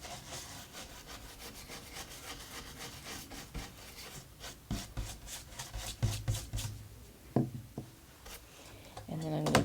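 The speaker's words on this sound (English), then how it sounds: "use a brush and try to rub those crumbs out" A brush rubs and scrapes soap crumbs out of the holes of a stencil, making a continuous bristly scratching with quick back-and-forth strokes. The strokes grow more uneven and knocky toward the end.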